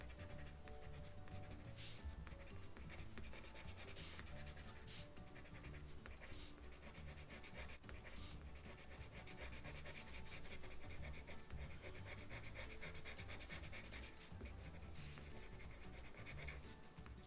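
Colored pencil scratches and rubs steadily on paper while speckles are drawn on a quail illustration, a close, continuous dry scraping with small taps throughout and no talking.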